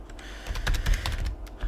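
Rapid keystrokes on a computer keyboard, a close, irregular burst of clicky taps with no talking.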